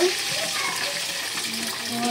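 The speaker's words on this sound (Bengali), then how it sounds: "পানি দিয়ে দিলাম।" Water pouring steadily into a pot of khichuri with mashkalai dal, a continuous splashing gush close by lasting the whole moment, with a light background hiss.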